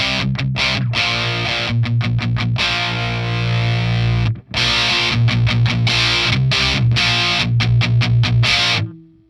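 Electric guitar played through a Fender Hammertone Metal pedal with the gain set to zero, giving loud sustained chords and picked phrases with short breaks between them, alone without talk.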